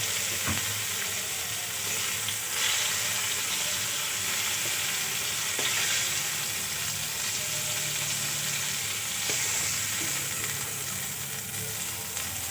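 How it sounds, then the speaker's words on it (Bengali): Cauliflower pieces frying in hot oil crackle and sizzle in a loud, dense, continuous hiss close by, with an occasional soft stir and no voices. "ফুলকপিগুলো ভালো করে ভাজা হয়ে গেছে"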